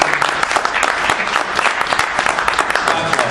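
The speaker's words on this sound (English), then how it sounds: "I'd like to get another round of applause for our Pennsylvania state chair" Loud, dense audience applause fills the room for a Pennsylvania state chair at a Montgomery County Libertarian Party event, steady and sustained throughout with a possible voice faintly underneath.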